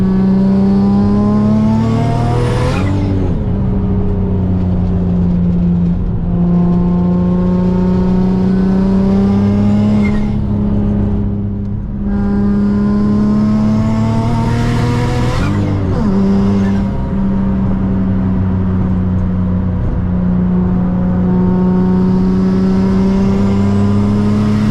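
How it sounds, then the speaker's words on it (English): A turbocharged Nissan 350Z pulls hard on an on-ramp, its engine loud and close through repeated rising revs with sharp gear-change dips and turbo whoosh between pulls, sustained throughout. "Turbo is just sounding crazy."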